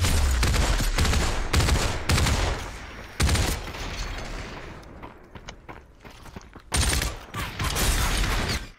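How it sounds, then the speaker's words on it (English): Gunfire crackles through a Population One VR battle royale match as sniper shots ring out, loud sharp bursts and volleys clustered at the start and end with a noisy lull between, close and dense, without talk. "Oh, I'm getting sniped at."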